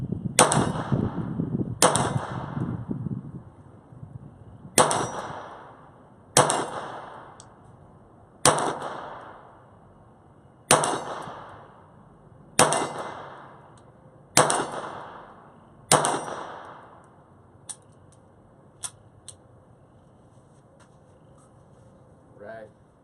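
Pistol shots ring out one at a time against a CTS steel target, each sharp crack followed by a bright metallic clang, around ten spaced hits at a steady pace with some quieter pings toward the end.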